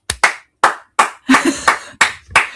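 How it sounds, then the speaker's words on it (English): Several people clap together in a small room during a livestream, sparse bursts of close, loud hand claps in an uneven rhythm, about eight sharp claps over a couple of seconds, with no talking over them. "Everybody clap for Tammy"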